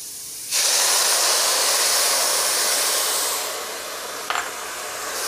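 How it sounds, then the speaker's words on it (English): A splash of vegetable broth hits a hot pan with onions and garlic and bursts into a loud, broad hiss, holds for a few seconds, then eases slightly, with a brief clatter near the end. "we're going to add just a little vegetable broth"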